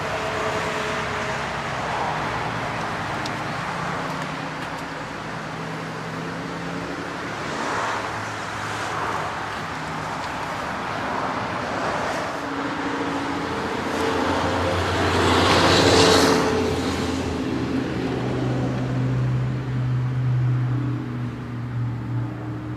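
A 1949 Pontiac Chieftain Deluxe 8 idles steadily after starting, its low exhaust rumble constant and close, with a broad even wash of engine noise and a slight swell in level midway through.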